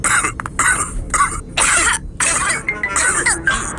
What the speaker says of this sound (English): Oh dear, all the grown-ups have caught Pedro's cough.